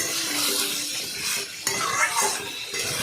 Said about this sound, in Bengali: ভালো করে নাড়াচাড়া করলাম